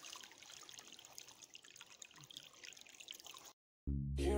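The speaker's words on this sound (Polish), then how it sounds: "A tutaj płynie woda." Faint trickling water with soft drips, steady and close, ending abruptly before a brief louder burst.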